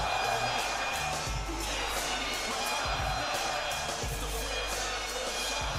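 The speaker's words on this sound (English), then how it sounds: "Boos for Cody Rhodes is insane" Large arena crowd at WWE Smackdown booing Cody Rhodes, a dense continuous roar of many voices holding steady throughout with low rumbling swells.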